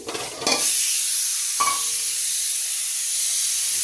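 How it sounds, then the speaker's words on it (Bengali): Potatoes frying in a pan give a loud sizzling hiss with a few stirring clatters near the start, then settle into a steady, even fry. "একটু দুপুরের জন্য আলু ভেজে নিই"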